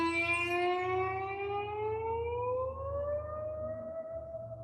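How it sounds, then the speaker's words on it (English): A slide glides up the neck of a Gibson SG electric guitar, one sustained sliding note rising smoothly and bending continuously with rich overtones, loud and alone with no talk. "What the slide does, and a lot of people haven't seen this before, is it just goes like this."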